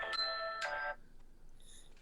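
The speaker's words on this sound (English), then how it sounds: "You have my phone ringing near you, Philo." A phone's electronic ringtone plays a short chiming melody for under a second and then cuts off, heard at moderate volume during an online conversation, followed by near silence.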